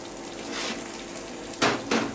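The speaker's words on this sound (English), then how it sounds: "the water's boiling quite hard" Water boiling hard in a pot on the stove for poaching eggs, a steady bubbling hiss close by, with two brief louder splashy bursts near the end.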